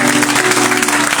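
Church congregation at a Portuguese-language thanksgiving service applauding, a loud continuous wash of clapping from many people over a low steady tone.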